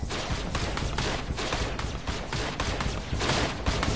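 Rapid, continuous gunfire from a player shooting at an opponent in Fortnite, a dense unbroken stream of shots at steady loudness for several seconds, with no voices over it.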